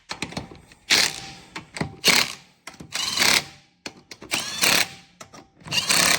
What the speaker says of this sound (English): let's try and see if we can tighten those lug nuts down